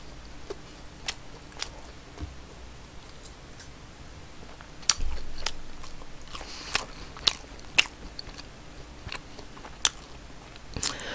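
Someone bites and chews a Burger King red king crab Whopper and a crunchy chicken burger, with crisp crunches and clicks spaced irregularly, close and fairly quiet with no talking.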